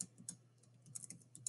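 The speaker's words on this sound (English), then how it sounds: "I'm typing text." Typing on a computer keyboard: a brief run of quiet, close key clicks at an uneven, quick rhythm over a faint background hum.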